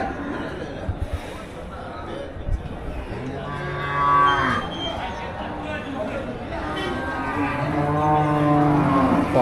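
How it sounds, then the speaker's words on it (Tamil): Cattle low repeatedly at a busy cattle market where dairy cows and Jersey cows are traded, the deep drawn-out moos sounding close and loud over a steady background of crowd chatter and people talking. "பால் மாடு ஜெர்சி மாடு நிறையா வரும்."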